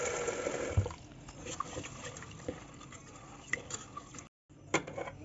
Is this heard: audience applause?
no